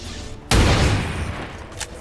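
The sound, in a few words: gunfire from XCOM 2 soldier, video game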